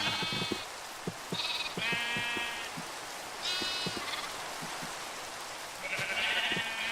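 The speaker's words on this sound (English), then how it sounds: "Man, these sheep really need to grow their wool back soon." Several Minecraft sheep bleat in turn, short wavering cries repeating every second or two over a soft steady background hiss.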